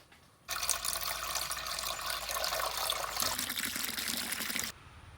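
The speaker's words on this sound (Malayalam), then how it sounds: "നമ്മളിനി അക്വേറിയത്തിലോട്ട് വെള്ളം ഒഴിക്കാൻ പോവാണേ" A steady stream of water pours and splashes into an aquarium for several seconds, starting abruptly and then stopping, close by with no talking.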